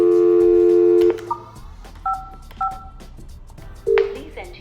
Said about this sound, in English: To hot desk login, dial *55, then press dial.